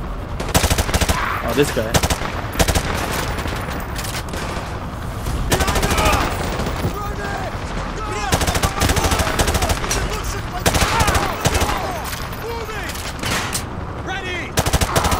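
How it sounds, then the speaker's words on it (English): Sustained automatic gunfire and rapid bursts of shots fill a Call of Duty: Modern Warfare 2 Remastered battle, loud and nearly continuous, with brief voices talking over the shooting. "Who else is shooting? What are they shooting at?"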